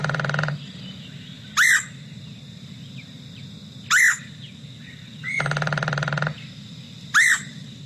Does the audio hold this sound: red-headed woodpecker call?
yes